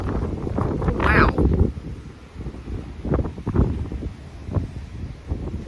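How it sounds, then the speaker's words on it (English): Strong outdoor wind buffets the microphone in loud, low rumbling gusts that swell and fade, with a voice speaking intermittently underneath. "Yeah, the wind is pretty bad."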